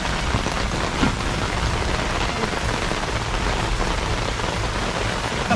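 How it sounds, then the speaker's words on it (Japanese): Heavy rain pours steadily over a campsite at Tamagawa Camp Village, a loud, even roar of drops on the tent and ground that lasts throughout, with no distinct thunderclap standing out. "雷鳴っております。"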